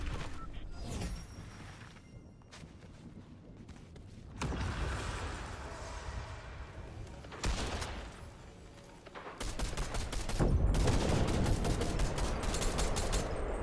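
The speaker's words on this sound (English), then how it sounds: "There's also fighting going on over there." Video game gunfire and fighting, bursts of rapid automatic shots and volleys in several stretches, the last one dense and loud, with a voice talking in between.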